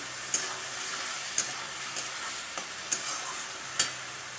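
Spices of ginger, cumin, coriander, onion and garlic are stirred into fried onions in a pan, with spoon scrapes clicking roughly once a second over a soft, steady sizzle.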